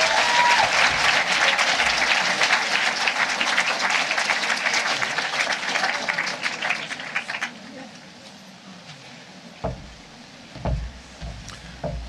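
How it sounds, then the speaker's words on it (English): Warm audience applause at a UWC Atlantic College leavers' ceremony, a full crowd clapping strongly for several seconds before thinning out into scattered claps, light bumps and a voice. "please do give them a nice warm round of applause"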